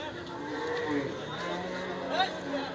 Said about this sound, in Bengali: এই যে এদিকে অনেক গাভী আছে